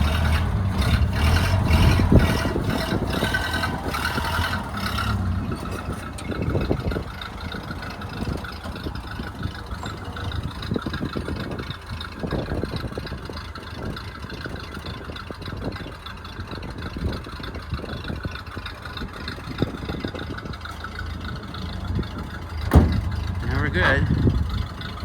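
A 1931 Ford Model A pickup engine running, a loud rough rumble at first that then settles into a lower steady chug with clanks and knocks, while people talk nearby.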